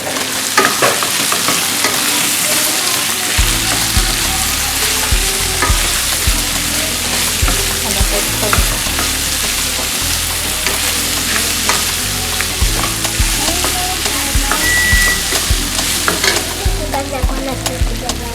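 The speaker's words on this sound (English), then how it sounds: "Stir, stir." Chickpea curry frying and being stirred in a pan, a steady loud sizzle with scraping stir strokes running throughout, with no talk.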